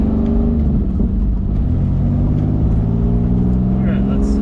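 A supercharged Fiero or similar car idling and being moved, a continuous close engine rumble with a steady whirring drone that stays level for the whole stretch.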